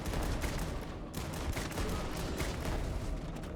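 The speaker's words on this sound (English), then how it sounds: "Try this shotgun for a wee bit." Shotgun blasts in the sci-fi video game Starfield, a dense run of loud, overlapping reports with steady combat noise filling the whole stretch.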